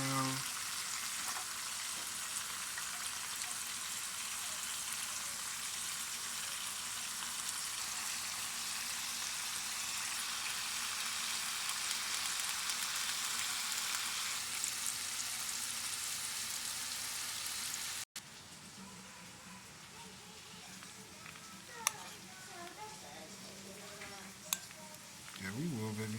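Onions and green beans fry in a pan with a constant, fine crackling sizzle. Partway through it drops to a quieter hiss, with a couple of sharp utensil knocks.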